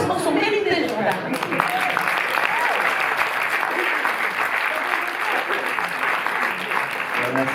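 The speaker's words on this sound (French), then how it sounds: "ces applaudissements sont mérités, Jordan." Warm audience applause at a Paris cinema screening of short films, continuous dense clapping with scattered cheers and a few voices talking over it at the start.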